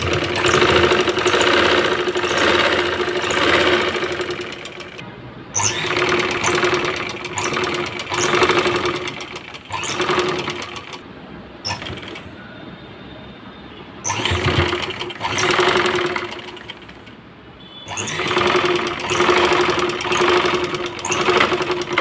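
Sewing machine stitching a pocket onto a salwar, running in several loud sustained bursts with brief pauses between them, a steady motor hum with rapid needle clatter.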